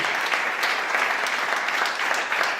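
A church congregation claps together, a dense, sustained burst of applause filling the room evenly for a couple of seconds with no speech over it.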